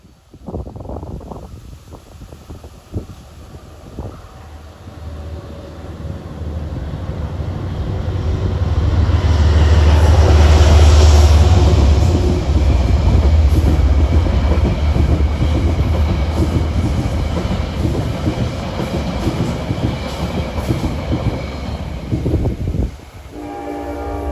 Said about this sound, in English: here comes 841 for Poughkeepsie at 432.